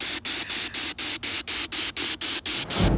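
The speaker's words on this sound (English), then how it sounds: "there was a lot of, I guess, ambient noise from radio stations and that sort of thing coming through" Dense radio-station static hisses loudly and steadily, cut by regular rhythmic dropouts roughly every quarter second, then swells into a louder burst at the end.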